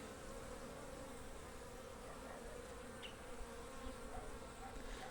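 Bees flying around a beehive in spring, a steady dense buzzing swarm hum, fairly faint and continuous outdoors with no talk.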